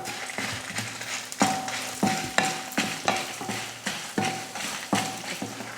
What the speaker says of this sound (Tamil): எண்ணெய் ஊற்றி வறுத்துக்கலாம்.